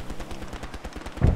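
Rapid gunfire from a video game, a steady stream of sharp shots in quick succession, ending in a louder burst.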